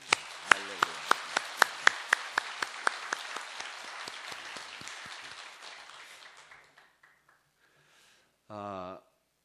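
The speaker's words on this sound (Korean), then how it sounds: "격려의 박수 보내주시기" A church congregation applauds the Immanuel choir at a Wednesday Christmas music service. Loud, close claps start sharply and build into dense applause, then fade over several seconds, followed by a brief tone.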